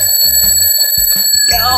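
Several alarm clocks ringing loudly and close by, with rapid bell clatter and shrill tones that overlap in choppy bursts.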